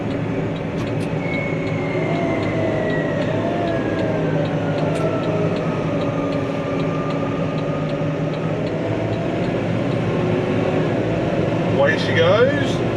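New Holland T5 tractor engine pulling uphill while carting big bales, a steady droning hum with a slowly shifting tone heard from the cab, and a brief rattle near the end.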